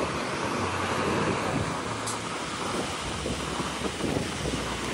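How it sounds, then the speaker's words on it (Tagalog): Strong ocean waves surge and crash continuously close by during a holiday outing in Japan, with heavy wind buffeting the microphone throughout. "Lakas ng alon."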